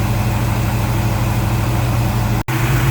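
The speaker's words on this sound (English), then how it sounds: "Alright, the engine's kind of loud." A Chevy 350 V8 runs at a steady idle while its lifters are adjusted, giving a loud, close, even rumble with a fast ticking valvetrain rhythm and one brief dropout near the end.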